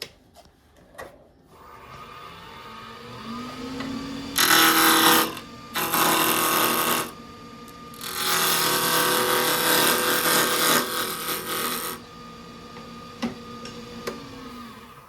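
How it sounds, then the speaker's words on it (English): A wood lathe turns a spin top while a bevel tool cuts a tenon. A humming motor runs under three loud bursts of close cutting and scraping, separated by short pauses. "first thing we're going to do is make a little tenon, and we're going to be doing that with a Bevel tool"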